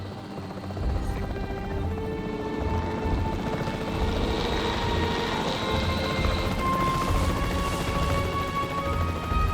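Capture team helicopter in Jurassic World Evolution 3, a steady droning rotor hum with low thudding pulses, continuous and fairly loud, no talk over it.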